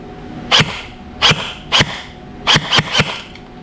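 A Poseidon XQ4 Sniper Medusa airsoft rifle firing: six sharp, loud snaps close by, three spaced apart and then a quicker cluster of three, with nobody talking.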